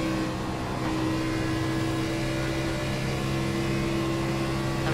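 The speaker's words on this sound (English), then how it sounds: "I'm gonna have to turn down the engine a little bit." A NASCAR Xfinity race car engine in the iRacing simulator at Atlanta Motor Speedway makes a loud, steady, sustained drone with a constant tonal whine, heard alone without talking.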